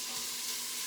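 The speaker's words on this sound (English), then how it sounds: "so I'm going to just stir that around a little bit and let it sear." Shrimp and grits ingredients sear and sizzle in a quick cooker while being stirred with a teak corner spoon, a brief, close, steady hiss of frying.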